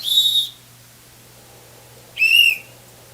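A person whistles two short, steady high notes about two seconds apart, each lasting roughly half a second, with only a low hum in the quiet gap between them.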